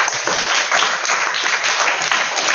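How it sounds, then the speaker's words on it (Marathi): Students in a school classroom break into applause, a dense, continuous patter of many hands clapping close by for a couple of seconds, without speech. "खूप छान, टाळ्या वाजवायच्यासाठी."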